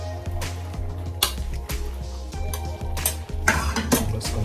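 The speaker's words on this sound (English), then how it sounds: "Mix up this pasta into my sauce." Pasta being stirred into a sauce in a pot for Jamaican jerk shrimp Rasta Pasta, with repeated close scraping and clinking of a utensil against the pot in uneven strokes, under a steady low hum.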